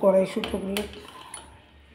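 A pot of boiled peas is lifted off a stove, starting with a loud metallic clank and rattle of cookware that trails into quieter clinks and fades within two seconds.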